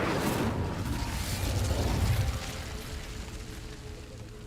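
Incendio fire spell cast in the Hogwarts Legacy video game, a dense whooshing burst of flame that swells to a roaring peak and then trails off into a steady low rumble.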